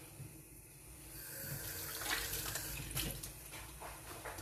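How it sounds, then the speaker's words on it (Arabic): Water runs from a tap while hands are washed, a steady splashing flow that swells slightly and carries on throughout, close and moderately quiet with no one talking. "باش نغسل يديا"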